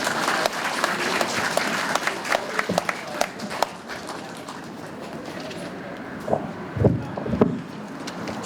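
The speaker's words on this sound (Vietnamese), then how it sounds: "Xin chúng ta cho một tràng pháo tay thật lớn." Applause at a Vietnamese community event announcing a $52 million community service center, moderately loud clapping that thins out midway, with a few sharper bursts later.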